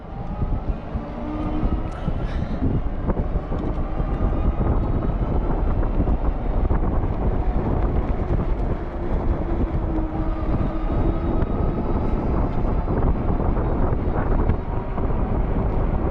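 A Lectric XP electric bike at full throttle across a level parking lot, heavy continuous wind rush over the microphone with a steady motor and tire drone underneath, loud and unbroken.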